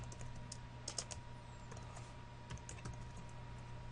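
Code is typed on a computer keyboard, faint irregular keystrokes in short bursts over a low steady hum.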